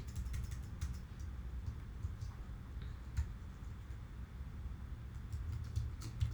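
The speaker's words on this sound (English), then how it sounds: "we're typing in" Soft, scattered taps of typing on a computer keyboard, quiet and irregular over a low steady room hum, with no one speaking.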